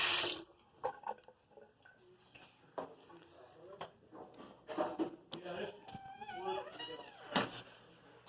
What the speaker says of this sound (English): The water runs.